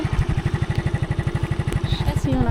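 Motorcycle engine idling close by with a steady, rapid low chugging pulse throughout, a brief rev near the end and faint background sounds.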